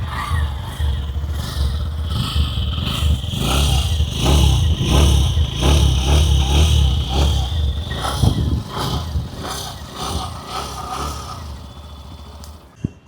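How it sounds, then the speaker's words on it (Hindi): Hero Glamour X 125 top model motorcycle exhaust note, a loud close-up engine idle that builds into sustained revving in the middle, then settles and fades toward the end. "अभी सुन लेते हैं टॉप मॉडल की एग्जॉस्ट नोट"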